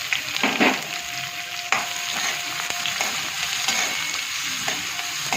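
Onions fry in a pan with a steady, close sizzle, broken by a few sharp taps and scrapes from stirring, with no voices.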